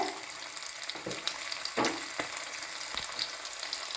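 Potatoes with onion and turmeric sauté in a hot pan for Kumbakonam kadappa, a close steady sizzle punctuated by a few sharp stirring scrapes and clinks of the spatula.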